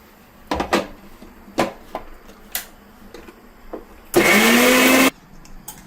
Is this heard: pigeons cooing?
no